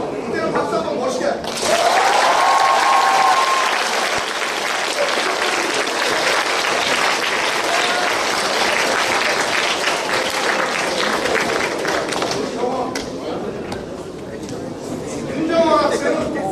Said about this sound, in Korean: 이때는 박수 한번 멋있게.